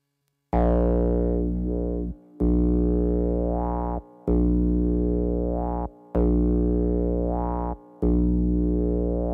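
A gritty, distorted Roland TB-303 bass synthesizer plays four or five long, buzzing notes separated by short gaps, each with a sweeping filter that makes the tone whine and wobble.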